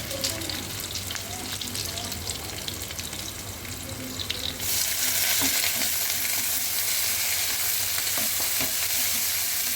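Shrimp fry in a pan for shapla chingri, with a constant sizzle and scraping stir strokes. Halfway through, the frying suddenly grows louder and brighter, and faint voices can be heard in the background.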